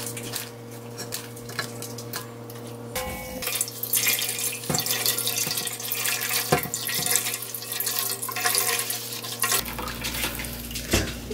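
Hot liquid from radish steeped for seven hours drains and splashes as the pulp is squeezed in a cotton or non-woven cloth, a continuous watery trickle with occasional clatters and handling sounds nearby.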